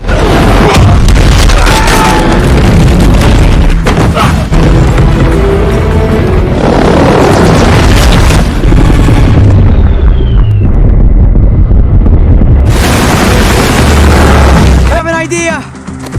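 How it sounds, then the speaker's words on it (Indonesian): Loud, dense film battle noise with a ship's cannon firing and a helicopter exploding, repeated booming blasts, continuous rumbling throughout, with a voice speaking over parts of it. "Nathan berhasil menghancurkan helikopter Braddock menggunakan meriam kapal tersebut."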